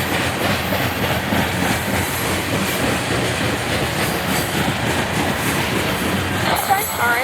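A loaded BNSF coal train rolls past at Agency, Iowa, with a steady heavy rumble and continuous wheel clatter. A faint wheel squeal rises near the end.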